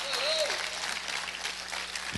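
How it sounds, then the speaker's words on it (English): Church congregation applauding in praise and worship, a dense, steady patter of many hands clapping at once, fairly faint and continuous for a couple of seconds. "Somebody give God a hand clap of praise and worship in here."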